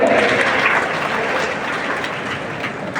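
An audience applauds at a police award ceremony in Basavana Bagewadi, Vijayapura district, with dense steady clapping that is loudest at first and slowly thins out.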